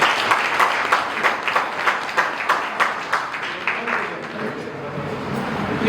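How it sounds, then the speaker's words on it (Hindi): Guests at a retirement function clap together in a lively burst, rhythmic and close, gradually thinning toward the end while voices chatter underneath. "प्लीज उनके लिए तालियां"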